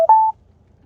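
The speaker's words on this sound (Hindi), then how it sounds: "अब एक फोन आ रहा है, एक फोन ले लेते हैं किसी भगत भाई का।" A short two-tone telephone signal announcing an incoming caller on a live devotional call-in broadcast: one brief lower tone, then a steadier higher tone, ending abruptly into near silence.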